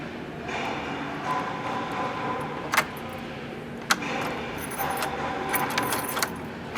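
Keys jingling and turning in a rekeyed Kwikset deadbolt and door knob lock, with light metallic rattles and a couple of sharp clicks as the bolt throws, against a faint background hum.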